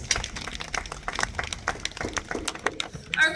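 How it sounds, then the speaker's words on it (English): At a wildlife show with a tamandua on stage, a small audience applauds with uneven, scattered claps at moderate volume, some nearby and sharp, others softer and farther off. "let's give her a big round of applause"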